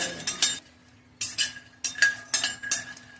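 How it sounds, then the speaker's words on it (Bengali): Makhana (fox nuts) frying in a pan while a metal spoon stirs them, giving five or six clinking, scraping bursts separated by short pauses, close and fairly quiet with no talking. "এটা হলো মাখানা ফ্রাই করছে।"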